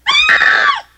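A woman screams in surprise, one loud, sharp, high-pitched shriek that rises suddenly, holds for most of a second and then cuts off.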